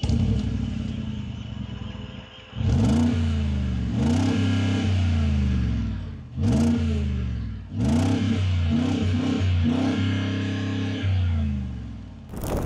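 Mercedes-AMG G63 with a V8 biturbo engine, revved repeatedly from idle: several sharp throttle blips rising to a roar and falling back to a deep rumbling idle, loud and close, with no speech.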